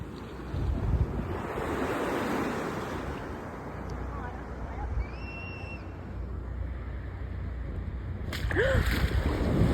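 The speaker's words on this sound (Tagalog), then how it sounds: "Ang lakas ng alon." Strong ocean waves surge and break at the beach in Baler, a continuous loud roar of surf mixed with gusty wind buffeting the microphone, with a brief faint voice near the end.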